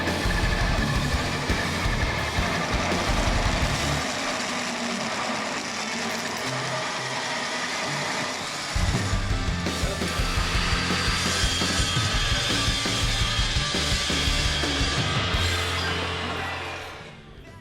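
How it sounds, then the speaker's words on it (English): Welding a small metal adapter onto a tube cage inside an F150 pickup, a continuous crackling, buzzing arc that stops and restarts partway through, loud and close, with no talk. "I'm about to weld that thing on."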